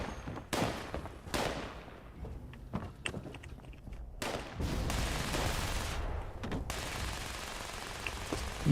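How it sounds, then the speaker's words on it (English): Bursts of machine-gun fire and scattered gunshots in Fallout 76, some sharp and close, others a longer rattling fusillade, separated by quieter gaps with faint footstep-like noise. "I hear lots of shooting"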